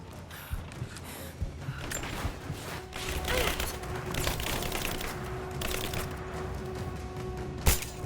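Gunfire in Rise of the Tomb Raider, rapid crackling shots scattered through a busy combat soundscape, moderately loud with a sharper crack near the end.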